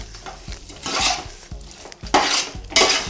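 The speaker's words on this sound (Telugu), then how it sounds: "బాగా కలిపేలాగా ఇలా కలుపుకోవాలి" Prawns coated in masala are stirred in a pan over low heat, with a spoon scraping and knocking against the metal in several uneven strokes over a soft sizzle, close up and with no talking.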